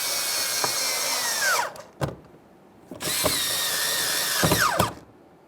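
A power tool snugs 7mm mounting bolts on a Ford F-150 rear door, two loud whining bursts of about two seconds each with pitch dropping as the bolts seat, separated by short clicks and a quiet pause.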